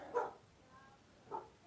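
Two sharp, faint dog barks from some distance, separated by about a second of quiet room tone.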